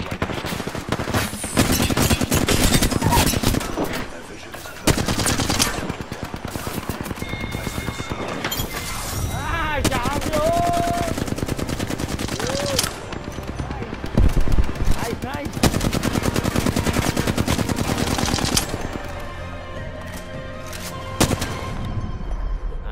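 Dense automatic weapon fire in the video game Apex Legends, with sustained bursts and rapid crackling shots that are loud and close, broken by short pauses, while a voice talks over part of it.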